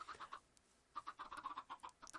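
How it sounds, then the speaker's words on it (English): Cute chickens in a video game farm cluck in short repeated bursts, a few quick calls, a pause, then a busier run of clucks, fairly clear and alone. "cute chickens"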